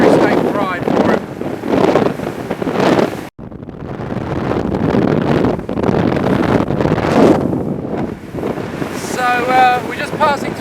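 A Fletcher Arrowflash 15 speedboat runs at about 35 mph, its engine drone mixed with heavy wind buffeting and water rush, loud and continuous, with someone talking over it.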